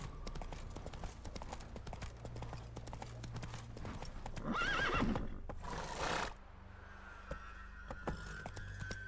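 A horse in The Witcher 3 video game clip-clops along at a steady gait and gives one loud neigh partway through, with the hoofbeats continuing at moderate volume and no talk over them.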